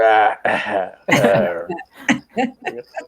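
A voice imitates a dry cough: a few short, sharp coughing bursts after a stretch of vocalizing, close and fairly loud.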